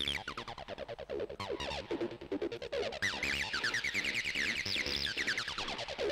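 A Korg Volca Sample's clock pulse drives a distortion effect in an acid setup, producing a steady train of loud, gritty, evenly spaced pulses with a harsh buzzing edge that runs continuously for about six seconds.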